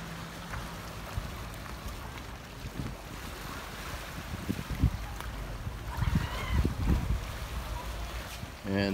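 Gusty wind buffets the microphone at a Boracay beach while waves wash in faintly underneath, the roar swelling in short bursts toward the end.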